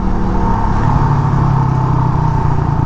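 Suzuki Raider 150 carbureted motorcycle engine running steadily and loudly up close, with a constant mid-pitched drone and no talking.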